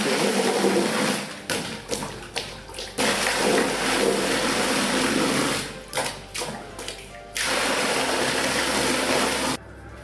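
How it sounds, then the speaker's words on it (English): Sloshing, gurgling water from a hand pump with a 4-inch pipe plunged into a barrel, with rhythmic surges and brief pauses between strokes, close by. "I'm going to put it in this barrel and up there, and plunge it down."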